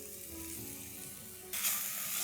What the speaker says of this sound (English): Stir fry this on high flame.